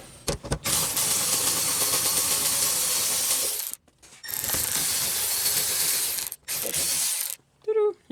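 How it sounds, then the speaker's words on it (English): Ratchet wrench loosening a 10mm headlight bolt on a Chevrolet Malibu, rapid clicking in three long bursts separated by brief pauses, close and fairly loud. "Just grab my wrench."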